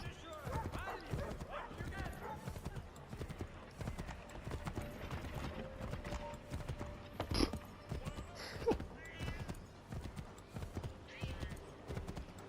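Rhythmic clip-clop of a white horse's hooves galloping steadily in Assassin's Creed 3 Remastered, with occasional whinnies and a voice talking over the game sounds.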